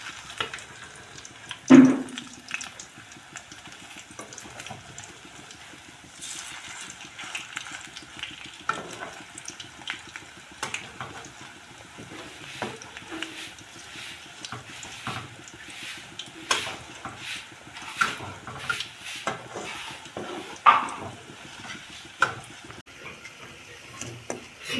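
Potato pakora fry in oil under a soft sizzle while being stirred and turned, with intermittent scraping and clacks of a utensil against the pan, one sharp knock early on.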